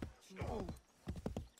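Horse hooves clip-clop in the Assassin's Creed 3 video game, a short run of close hoofbeats with a faint whinny over game noise and background voices.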